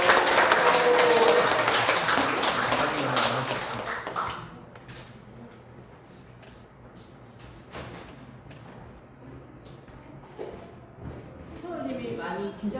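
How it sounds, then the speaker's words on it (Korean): Applause fills a Korean lecture hall for about four seconds and then dies away, leaving quiet room noise broken by scattered knocks and shuffling as a speaker takes the stage. "큰 박수로 맞이해 주세요."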